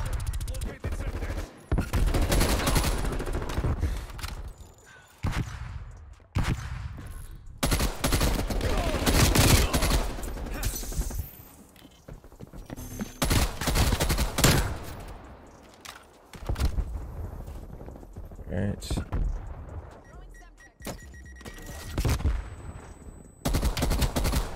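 Rapid automatic bursts from a KSP 45 submachine gun fire in Call of Duty: Cold War multiplayer, coming as loud, repeated volleys separated by brief pauses across the match.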